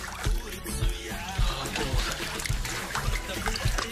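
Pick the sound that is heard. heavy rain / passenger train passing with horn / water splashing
water splashing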